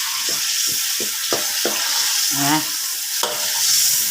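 Curry paste sizzles and fries in coconut milk for a Thai beef curry with pickled bamboo shoots. A steady, close hiss runs throughout, broken by a series of rhythmic scraping stirs of the spatula in the pan.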